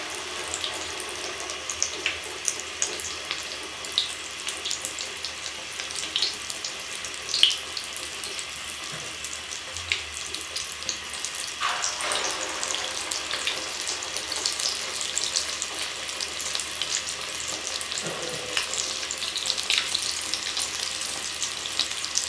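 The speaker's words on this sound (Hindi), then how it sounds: "ऑयल हमारा गर्म हो चुका है। तो अब हम इसमें शामी कबाब डालते हैं।" Beef shami kababs, dipped in egg, fry in hot oil in a wok over a medium-low flame, giving a steady, broadband crackling sizzle that holds through the whole stretch with scattered pops and light clinks, with no voices.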